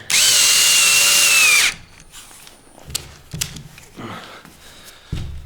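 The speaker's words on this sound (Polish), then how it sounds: "Gdzieś tam wkręt jest schowany za głęboko. Trzeba wkręcić niżej." A power drill whirs loudly for under two seconds as it drives a screw into a plasterboard wall, then cuts off, leaving a few quieter knocks and handling clatters.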